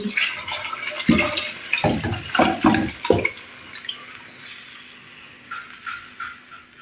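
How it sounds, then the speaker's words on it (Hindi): Beef trotters and broth poured into a cooking pot of spiced masala, heard as a series of close, heavy splashes and sloshes early on, then settling into quieter bubbling and faint clinks. "अब मैं इसमें वो पाए डाल दूँगी। ये पाए और यखनी"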